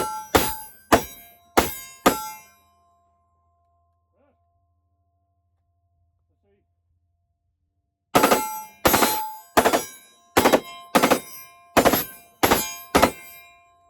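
An FRT-15L3 forced reset trigger rifle fires loud, sharp shots: a quick burst of four, a long silence, then a rapid string of about ten shots in quick rhythm.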